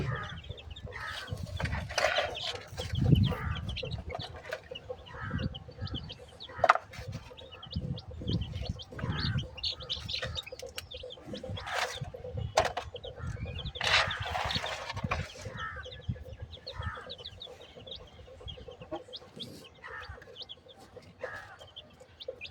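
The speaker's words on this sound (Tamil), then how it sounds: "இதுதான் இன்குபேட்டரில் பொடிச்ச கோழி குஞ்சு." Incubator-hatched young chicks peep and cluck up close while eating termites, sharp, irregular pecking taps sounding throughout, with no talking.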